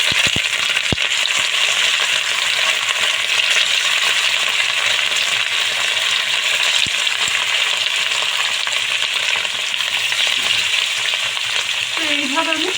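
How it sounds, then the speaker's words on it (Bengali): Pieces of rohu fish fry in hot oil in a kadai with a loud, continuous sizzle and crackle that holds steady throughout, close up, with a brief stirring scrape near the end. "কড়াতে তেল গরম করতে দিয়েছিলাম, তেল গরম হয়ে গিয়েছে। এখন মাছগুলো ছেড়ে দেবো।"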